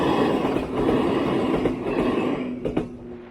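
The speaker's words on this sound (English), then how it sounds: "Train passing." A train rumbles steadily past a roadside in rural Japan, heard from a bicycle, with a continuous loud rolling roar, a faint wheel squeal, and a sharper clatter near the end.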